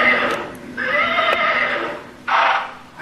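A horse whinnies loudly nearby, a long shaky neigh followed by a second shorter burst, with a voice faintly in the background.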